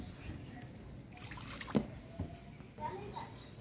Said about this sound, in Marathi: तर बघा, पाणी यायला लागलंय।